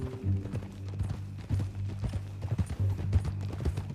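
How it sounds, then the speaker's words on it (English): A horse's hooves clip-clop in Red Dead Redemption 2, a brisk, steady rhythm of close hoofbeats over a low droning game background, with no talk. "Some folk buy ranches, some buy horses."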